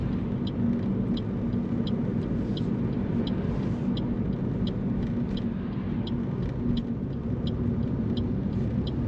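A car accelerates on the road during a lane change in a beginner driving lesson, its engine and road noise forming a steady, loud interior rumble with a faint regular ticking running throughout.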